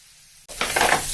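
Spice masala with turmeric hitting a hot pan, silence, then a sudden loud sizzle that bursts in and keeps crackling to the end.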